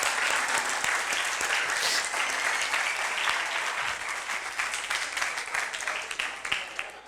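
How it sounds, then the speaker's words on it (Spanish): An audience at a talk on confidence and personal and business success bursts into sustained applause, dense clapping that stays loud and then slowly thins toward the end, with no voices on top. "Vamos a darles un aplauso"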